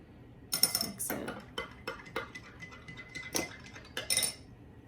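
A utensil mixes liquid for toxicology test strips, giving a quiet series of irregular clinks and scrapes against a container, with short metallic taps spread across several seconds.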